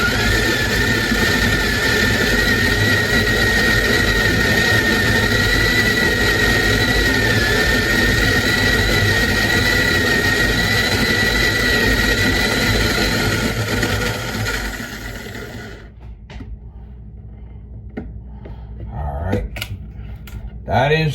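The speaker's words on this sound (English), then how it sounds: "That is the grinder." A coffee grinder runs loudly and steadily with a constant high whine for about fifteen seconds, then winds down and stops, leaving a few small clicks and knocks.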